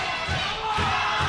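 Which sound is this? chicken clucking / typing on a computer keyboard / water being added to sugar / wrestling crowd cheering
wrestling crowd cheering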